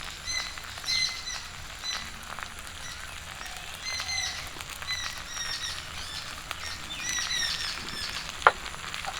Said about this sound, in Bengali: কলা পাতায় মাছ ভাজা হয়ে গেছে নামিয়ে নেব